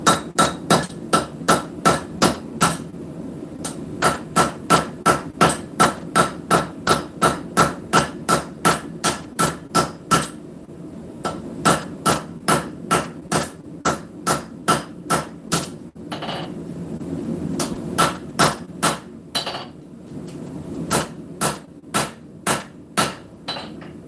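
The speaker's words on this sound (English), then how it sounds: "switch hammers, the old straight peen" A blacksmith forges hot metal with an old straight peen hammer on an anvil: loud, close, rapid rhythmic blows in long runs, each strike ringing sharply, with brief pauses between sets.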